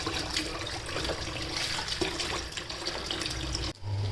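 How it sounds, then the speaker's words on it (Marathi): Running water pours over vegetables in a large vessel in a home kitchen, a steady, close splashing and gushing that cuts off sharply near the end. "भाजी हमेशा मोठ्या घामेल्यामध्ये धुवायची, मोकळ्या पाण्यामध्ये खळखळीत"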